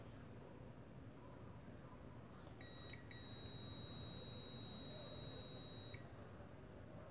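A single high-pitched electronic beep from a continuity tester checking a compressor's thermal protector sounds steadily for about three seconds over quiet background hiss, then stops.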